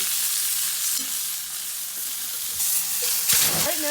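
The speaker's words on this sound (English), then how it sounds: "You really want to hear that loud sizzle sound when you're making this steak." A T-bone steak sears in a hot pan with a loud, continuous sizzle and crackle, close and unbroken, with no talking.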